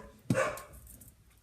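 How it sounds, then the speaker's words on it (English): A single short dog bark, slightly distant, followed by quiet room noise. "Okay, sorry about the dogs."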